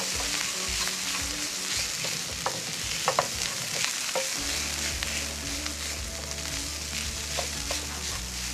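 Cold fried rice seasoned with soy sauce and salt sizzles steadily in a hot pan, with scraping stirs and clanks of a utensil in irregular bursts. It sounds close and fairly loud, with no talk.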